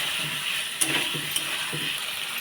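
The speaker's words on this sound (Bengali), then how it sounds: "ভালো করে কষিয়ে নেব।" Eggs sauté in a pan for an egg curry with pointed gourd and potato, giving a faint, even sizzle with a couple of sharp utensil clicks against the pan.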